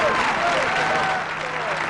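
Applause from the faithful fills St. Peter's Square at the funeral Mass of Pope John Paul II, a broad, sustained roar of clapping from a vast crowd spread across the open square.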